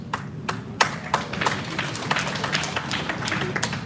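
An audience claps in scattered, uneven bursts at a government briefing on solid waste management and dump-site closures, the sharp hand claps fairly close with background murmur beneath.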